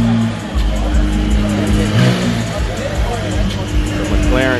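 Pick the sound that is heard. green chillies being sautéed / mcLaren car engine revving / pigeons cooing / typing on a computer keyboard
mcLaren car engine revving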